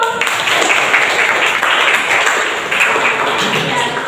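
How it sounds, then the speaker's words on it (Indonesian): A classroom of students applauding together, a steady wash of clapping held at an even level for about four seconds. "tepuk tangan dulu"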